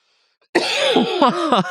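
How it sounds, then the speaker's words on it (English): After a brief silence, a person coughs and clears their throat in rough, close bursts, with several hacking pulses in quick succession. "I can't stop coughing"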